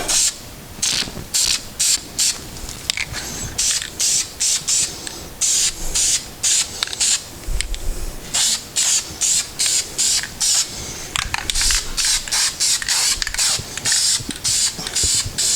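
Bursts of a spray gun hiss in a garage as car body parts are painted for an Audi R8 V8-to-V10 conversion, short close sprays repeating in steady rhythm with brief gaps.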